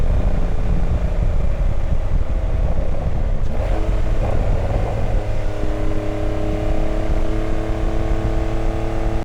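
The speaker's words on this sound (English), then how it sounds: "you do have the ability to have an auto blip as you downshift" Porsche 911 GTS flat-six engine with manual gearbox, loud and close throughout, with a rising rev blip near the middle as the car downshifts, followed by steady engine tones.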